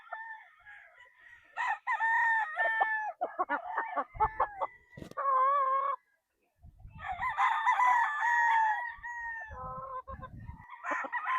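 Gray-bloodline gamefowl roosters crow repeatedly on a game farm, loud near crows overlapping with clucks and farmyard noise, with a short quiet pause midway.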